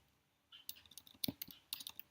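Computer keyboard typing at a desk while entering a website domain name, a quick irregular run of light close key clicks after a short quiet pause.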